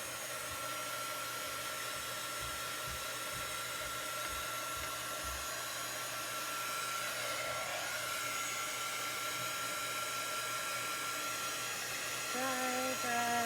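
A hair dryer runs steadily and close by, blowing over chalk paste on a stencil during a Chalk Couture Christmas craft project, a constant whooshing hum with a slight rise near the end.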